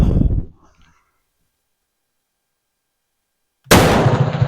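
A Steyr Hahn model 1912 pistol fires at an outdoor shooting range: a loud sharp report at the start, a stretch of near silence, then another blast that rings out to the end.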